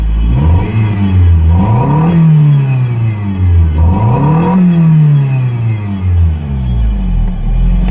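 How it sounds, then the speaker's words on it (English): A cheap used Toyota MR2 with a timing belt of unknown age, its engine revved hard twice, rising and falling in two loud sweeping surges close up, then settling back to a rough idle. "It's always a good idea to rev a car with like a sketchy who knows how old timing belt too, right?"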